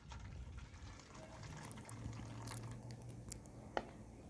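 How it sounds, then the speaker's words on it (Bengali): Water from cooked bottle gourd greens and beans being poured off, a soft steady trickle and slosh close by, with a small clink near the end. "এখন আমি জলটা কিন্তু ঢেলে নেব।"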